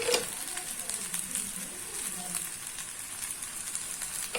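Cassava adai frying in oil on a hot pan, a steady soft sizzle with light crackle throughout, fairly faint and continuous, with no talking.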